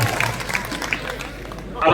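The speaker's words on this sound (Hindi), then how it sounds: "मैं चाहता हूं कि दुआ के तौर पर एक बार पुरजोर तालियां" Audience at a mushaira, an Urdu poetry gathering held at a college, breaks into a brief burst of clapping, close and fairly loud, while a voice speaks over it.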